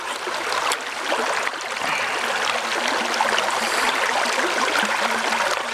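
Water flows steadily in a stream outdoors, a continuous close rushing and babbling with small splashes, alone and without speech.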